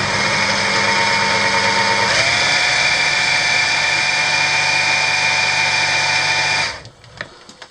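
A cheap AliExpress wind generator wired to a 20-watt bulb is spun by hand, giving a steady high motor whine that shifts pitch partway through, then winds down and stops near the end.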